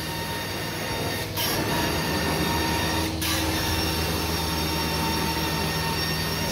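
A carpet cleaning extractor sucks hard on pet urine stained carpet, a loud, continuous whining suction roar with steady tonal hum, interrupted by two brief gurgling bursts as the wand passes.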